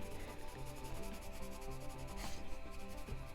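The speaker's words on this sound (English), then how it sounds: "So this blender pencil is just burnishing" Colored pencil blender burnishing over layered colored pencil on paper, a soft steady rubbing that continues quietly and evenly throughout.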